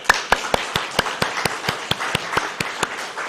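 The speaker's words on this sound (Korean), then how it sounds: "박수 한번 쳐야 됩니다" A congregation at a Sunday evening church service claps in an even, rhythmic beat, with sharp, distinct claps about four or five per second that are moderately loud over a quiet room.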